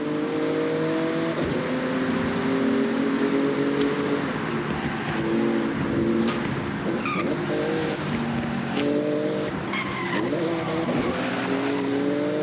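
In Forza Horizon, a Porsche races through a speed zone with a loud, sustained engine roar that shifts pitch as it accelerates, joined by repeated tire squeals and skids.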